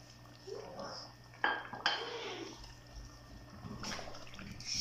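Cooking pot clatter as boiled turnips are added to a mutton curry: a couple of sharp metallic clinks and knocks with soft wet plopping and stirring, moderately quiet, close by.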